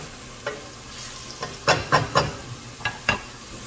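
Ingredients sautéed in a pan until lightly browned, a soft frying sizzle broken by several distinct scraping stirs of a utensil, quiet and close, with no talking.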